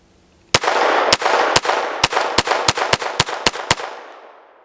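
A Glock 44 pistol fires a string of about eleven sharp, loud shots, each followed by a reverberant tail, the spacing starting slower then quickening toward the end.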